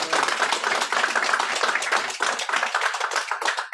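Audience applause following a lecture on Ice Age fauna, a dense, steady burst of many hands clapping that fills the whole stretch at close, fairly loud level with no voices over it.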